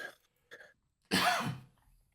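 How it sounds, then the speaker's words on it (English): A faint short sound, a pause, then one harsh, raspy cough up close, ending abruptly in silence. "you hear a cough, a hacking cough"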